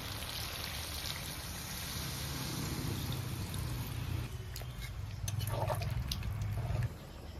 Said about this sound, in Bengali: মাংসটা কষানো তো হয়ে গেছে, এখন দিয়ে দেবো জল।